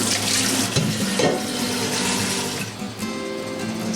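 Tap water runs steadily into a jar being rinsed out at a kitchen sink during beet pickling, a close, continuous splashing gush with shifting tone as the jar is moved under the stream.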